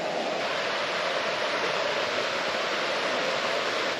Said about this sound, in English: So that is the waterfall that we passed earlier.